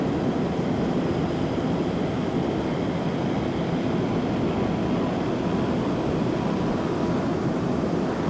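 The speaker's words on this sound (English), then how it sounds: "There you see Miss Geico going around Bad Boy Bandit." Miss Geico, number 113, an offshore powerboat in the OPA race on the bay, roars around the course with a steady, loud, unbroken engine drone and no talk over it.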